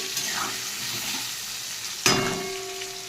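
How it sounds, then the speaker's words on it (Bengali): Cut potatoes and half a spoon of black cumin fry in oil already used for frying small fish, giving a steady hiss with stirring, and a sharp, louder burst of sizzle about two-thirds through. "এই মাছ ভাজার তেলেই আমি 1/2 চামচ কালো জিরে দিয়ে দিচ্ছি, আর কেটে রাখা আলু সাথে দিয়ে দিচ্ছি।"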